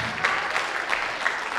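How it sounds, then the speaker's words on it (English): Audience applause at a high school battle of the bands, a steady dense clapping from a crowd, fairly loud and sustained throughout with no talk over it. "So give yourselves a round of applause for coming down tonight."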